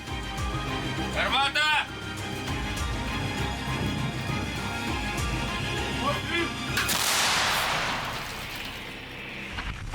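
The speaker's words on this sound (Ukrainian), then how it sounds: "Бійці відкривають вогонь по цілі." A loud artillery blast cracks out, followed by a rushing roar that trails off, with voices and outdoor rumble around it.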